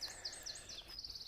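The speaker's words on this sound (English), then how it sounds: "Listen to them birds." Faint high chirps and short bird song phrases come from birds among spruces and hemlocks in woodland at Ladock, repeating quickly over a quiet background.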